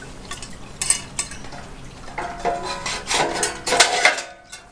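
A metal plate on a Smokin Hot rocket stove scrapes and clanks as it slides into its bracket, a series of close rasping metallic rubs and knocks ending in a final clunk.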